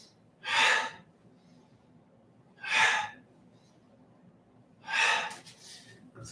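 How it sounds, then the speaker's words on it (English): During a qigong breathing exercise, three slow, audible exhales push out through the mouth. They are close and evenly spaced about two seconds apart, with quiet pauses between them. "Inhaling up, exhaling down. And let that exhale out the mouth."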